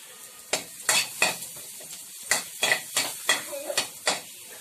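Chopped onions being stirred and mixed in a bowl for homemade hotdog sauce, a series of rhythmic scraping and clinking strokes of a utensil against the dish, close and fairly loud.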